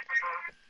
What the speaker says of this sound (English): That is the best ringtone ever.